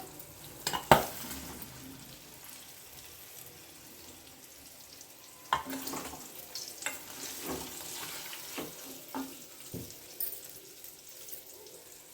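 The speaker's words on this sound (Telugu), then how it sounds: "ఇప్పుడు మనం ఫ్రై చేసి పెట్టుకుని కాకరకాయలు కూడా వేస్తున్నాను." Pieces of bitter gourd (kakarakaya) sizzle and fry in a pan with a faint, steady crackle, broken by several clanks and scrapes of stirring, with no talk.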